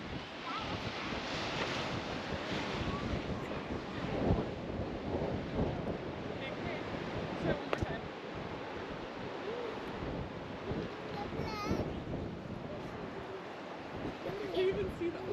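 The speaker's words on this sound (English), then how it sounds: "visitors can watch ocean waves violently churn and foam inside the rocky cauldron" Ocean waves churning and foaming inside a sandstone sea cave at Devil's Punch Bowl on the Oregon coast, a steady loud roar of surf mixed with wind buffeting the microphone throughout.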